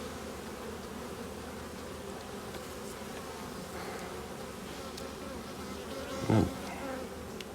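Honeybees buzz steadily around an opened hive frame, making a dense, even hum at moderate distance. The buzzing carries on throughout, with a brief soft thump near the end.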